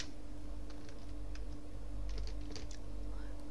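Light typing of Python code on a computer keyboard, a few scattered key clicks at a steady hand pace, quiet over a steady electrical hum.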